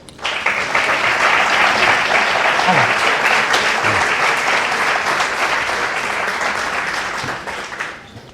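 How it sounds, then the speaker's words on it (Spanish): A large audience at a live talk on inclusive language applauds steadily for about eight seconds, a dense, loud wash of clapping that swells quickly, holds, and then fades out at the end. "Le vamos a dar un fuerte aplauso"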